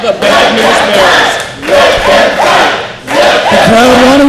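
A wrestling crowd at a UCW show chants together in loud rhythmic waves, several rising and falling phrases repeated close up by a large audience.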